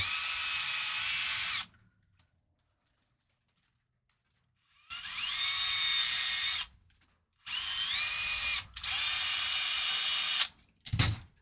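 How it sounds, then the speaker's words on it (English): Power drill whirring in several bursts while drilling out an axle, a long run, a pause of silence, then repeated shorter runs with pitch shifts as the bit bites into metal. "I neglected to drill the axle out the correct amount."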